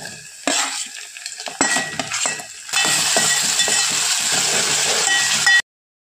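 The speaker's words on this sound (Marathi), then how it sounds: "आता आपण यामध्ये बारीक केलेला टमाटो टाकूया." Chopped tomato dropped into sautéed onion in a hot pan, with a loud steady sizzle and repeated scraping stirs from a spoon against the pan, ending abruptly.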